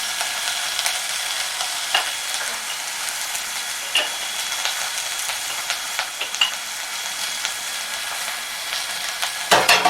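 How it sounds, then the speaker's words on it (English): Cabbage stirred and fried in a pan, a steady crackling sizzle with scattered scraping ticks from the spatula throughout, close and fairly loud. "Stirring evenly."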